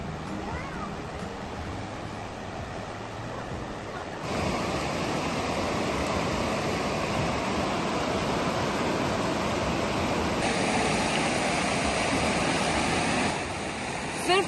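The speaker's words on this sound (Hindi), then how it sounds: "यहाँ आते तक पानी की आवाज इतनी तेज हो जाती है" Loud water rushes beside a trail near Bolton, a dense, roaring wash that is heard alone throughout and swells louder after the first few seconds.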